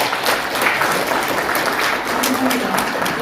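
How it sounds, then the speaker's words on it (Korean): Audience applause at a symposium in a National Assembly members' office building meeting room, steady clapping from a seated crowd that fills the whole stretch at an even, dense level. "감사의 박수 부탁드립니다."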